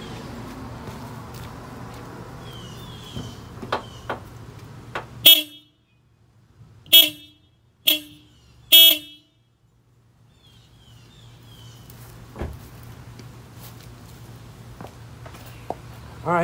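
A stock Honda Civic horn honks four times in short, separate beeps, loud and close, after a quiet stretch of idling engine hum and faint clicks.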